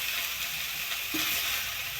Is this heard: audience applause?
no